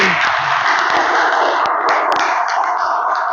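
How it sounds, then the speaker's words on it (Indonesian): Schoolchildren in a classroom clap their hands in a dense, loud, sustained burst of applause with sharp individual claps standing out and no talking over it. "Tepuk tangan."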